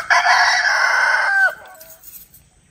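A rooster crows once, close and loud, in a single drawn-out cock-a-doodle-doo that falls off abruptly into quiet.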